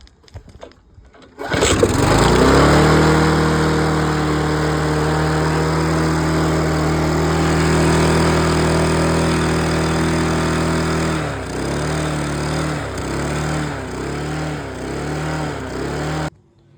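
A Mountfield LS45 lawn mower salvaged from a dump, fitted with a repaired carburettor, catches after a brief pull and roars into a loud, steady run close by. Near the end its engine begins surging in rhythmic, uneven pulses.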